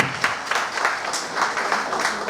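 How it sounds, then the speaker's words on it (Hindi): An audience at a business seminar claps in a steady, moderately loud round of applause, uneven individual hands pattering together throughout with no voices over it. "एक बार ताली तो होना चाहिए था"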